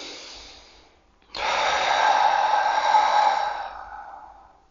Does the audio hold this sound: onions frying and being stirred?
no